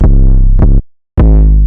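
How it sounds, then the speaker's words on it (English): An FL Studio 808 bass from a trap beat sounds alone in three loud harmonic notes. The second stops abruptly at its note end, leaving a short silence before the third hit. "by turning it on, the 808 will cut out when the note stops playing"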